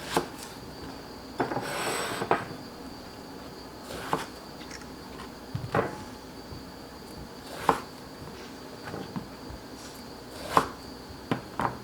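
A knife cuts a large eggplant in half with scattered sharp knocks and scraping on a cutting board, spaced a few seconds apart, close and fairly quiet.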